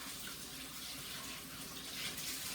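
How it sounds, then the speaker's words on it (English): A kitchen faucet runs in a steady, even rush of water as hands are rinsed under it, with no voices over the continuous splashing hiss. "Give my hands a quick rinse."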